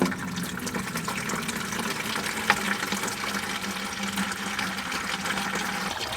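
Water flushed backward through a cooling tube on a Porsche Boxster engine, a steady close rushing and gurgling flow with one brief knock partway through.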